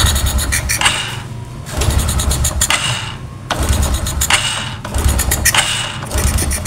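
A carbureted Honda Supra 125 motorcycle with its choke closed is started, giving four loud bursts of cranking and sputtering engine noise with short pauses between them, close by.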